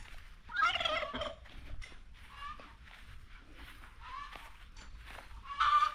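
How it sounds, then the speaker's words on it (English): Turkeys gobble at a rural home in Africa, with several close, loud bursts of warbling calls in short succession and quieter clucks and rustling between them. "Our turkeys."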